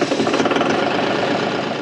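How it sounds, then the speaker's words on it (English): A tractor engine hooked to a hay tedder runs loud and close, with a steady knocking diesel rumble throughout the short stretch. "so now the tractor is hooked up to the tedder."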